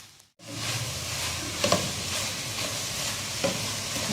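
Chicken and vegetable mixture being stirred into spaghetti in a hot pan, producing a constant close sizzle with a couple of soft spatula scrapes after a brief quiet start.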